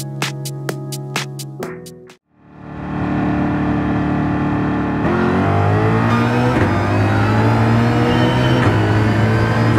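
Ford Mustang GR3 race car in Gran Turismo 7, its engine note swelling loud and steady after a brief pause that follows a few sharp, rhythmic bursts at the start.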